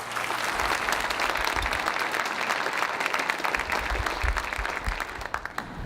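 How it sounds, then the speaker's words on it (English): A room full of attendees at a county chamber economic summit claps in a steady, sustained round of applause, dense and even, tapering slightly at the end. "So I think we really need to give a round of applause to Tammy and Christy."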